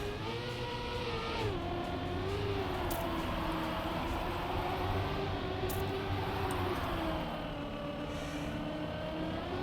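Several rally cars drifting uphill on a dirt stage in a racing game, their engines droning and revving continuously with shifting pitch, close and steady throughout, with no voices over it.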